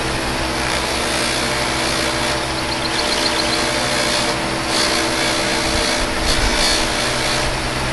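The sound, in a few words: table buffer machine running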